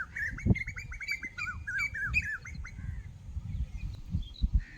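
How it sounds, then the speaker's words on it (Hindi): An Asian koel sings from a tree on a farm, its repeated calls overlapping with chirps from another small bird, steady and moderately near, over low rumbling background noise. "कोयल बोल रही है इस पेड़ पे"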